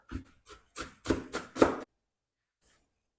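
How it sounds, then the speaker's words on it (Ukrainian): A knife finely chopping dill for a Nizhyn-style cucumber salad: a quick, close run of about six sharp strokes over less than two seconds, then silence and one faint tap. "І дуже дрібненько нарізаю кріп."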